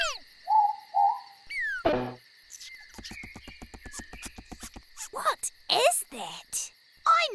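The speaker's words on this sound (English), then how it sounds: "It's Ruru! She's an owl." A ruru, or morepork owl, gives a clear two-note call at night, followed by chirping insects, rapid clicks and other nocturnal calls in a quiet setting.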